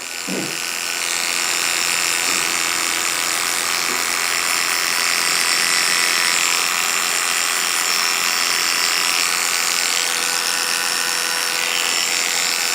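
An electric hair clipper with a number 2 guard buzzes steadily while cutting hair, a close, continuous whirring hum that runs unbroken for the whole stretch without talk.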